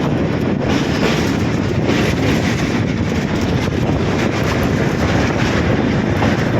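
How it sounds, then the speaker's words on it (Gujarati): A slow train rolls past near the Chambal river, a steady, loud rumble of rail noise that holds without a break. "ધીમી ધીમી ટ્રેન જાય છે."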